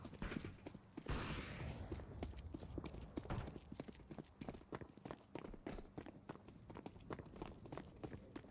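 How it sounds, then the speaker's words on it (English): Footsteps in Counter-Strike 2 come as quick, repeated thudding steps through a loud game mix. They run continuously across the stretch, fairly close, with a burst of noise early on. "Heard the footsteps."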